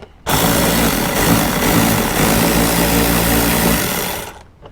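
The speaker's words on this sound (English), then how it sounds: "we're going to use this really handy AC Delco wrench that I got and put that on there" An AC Delco power wrench runs bolts on a Toyota RAV4 Prime: one loud, steady mechanical whir lasting about four seconds, close up and alone, then cutting off.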